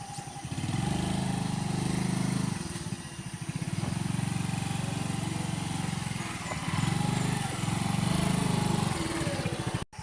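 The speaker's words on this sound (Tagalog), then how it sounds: "Ye, straight lang ang tingog sa motor." A motorcycle engine runs steadily nearby with a buzzing mid-pitched drone that swells and eases in long stretches, then cuts off abruptly at the end.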